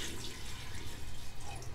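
Yakhni stock pours into a pot for Kabuli pulao, a dense, continuous splashing gush of liquid, close and fairly loud, with no voices.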